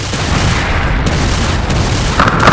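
Artillery blasts in the video game Earth Defense Force 2017 pound out as a dense, loud, continuous roar of booms and explosions, filling the whole stretch with heavy rumbling.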